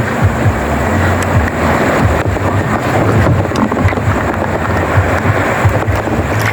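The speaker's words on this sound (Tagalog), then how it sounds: "Kaso lang ngayon mahangin." Strong wind gusts buffet the microphone over open water, with a steady low roar and the wash of waves throughout.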